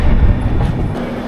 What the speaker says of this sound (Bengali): পাটনা স্টেশন ছেড়ে আমাদের ট্রেন এগিয়ে চলেছে হরিদ্বারের দিকে